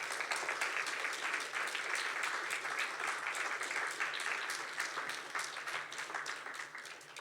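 An audience at a local author celebration applauds to welcome two speakers, a steady, even round of hand clapping from a moderate-sized crowd that slowly fades toward the end.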